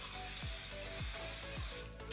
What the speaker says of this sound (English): I'm going to set the entire canvas on with the Urban Decay All Nighter Setting Spray